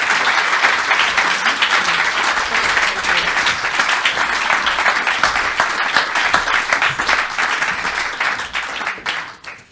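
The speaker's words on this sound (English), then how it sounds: "can I have a very warm round of applause for our panel?" An audience gives a warm, sustained round of applause for a panel at a public health launch event, dense clapping filling nearly ten seconds before tapering off at the end.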